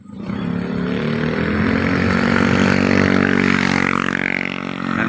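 A motorbike engine drones loudly and steadily nearby in the evening in the Philippines, its pitch rising and falling as it passes, with no voices.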